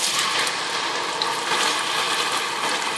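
Blended chili sambal fries in hot oil in a pan, a loud, dense crackling sizzle that holds steady throughout with no voices.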